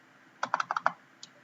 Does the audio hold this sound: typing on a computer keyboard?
yes